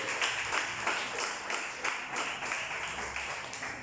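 Church congregation clapping in praise to the Lord during a pastor's sermon, a steady, fairly quiet wash of many hands with some rhythmic pulses, continuous for a few seconds.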